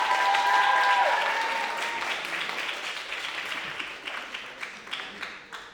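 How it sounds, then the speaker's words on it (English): Audience applause breaks out at a high school graduation ceremony, a dense wash of clapping that starts loud and gradually thins out, with a brief tonal sound near the start. "Please give a round of applause."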